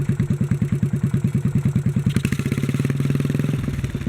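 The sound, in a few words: 1957 Bolens tractor engine running after carburetor fix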